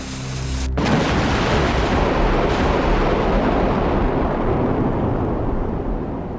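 Buildings blown up with explosives by sailors and dockyard workers to make fire breaks during the Great Fire of London: a loud, close boom hits sharply, then a heavy rumbling roar sustains for several seconds with no voices.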